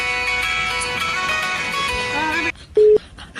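A telephone call drops: a sustained harmonic line tone breaks off abruptly, followed by a short, loud single beep in near silence.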